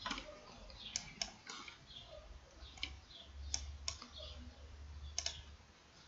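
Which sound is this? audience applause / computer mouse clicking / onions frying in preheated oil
computer mouse clicking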